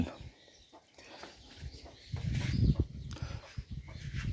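Chinese ducks quack and murmur softly nearby in a netted pen, with low muffled calls and some rustling movement in the background.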